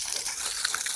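Water gushes steadily from a turned-on tap, a close, even rushing flow that stays constant for a brief second with no voices.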